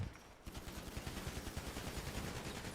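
Rapid automatic gunfire in the Roblox-style shooter Stab City, a dense fast rattle of shots firing continuously for a couple of seconds, fairly close and unbroken, with no voices over it.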